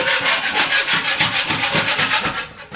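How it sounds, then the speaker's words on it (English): Sandpaper scrubs by hand over a smoothed patch on a wall, with quick, even back-and-forth strokes close up, a rhythmic rasping that fades slightly at the end. "I can sand that and be done with it."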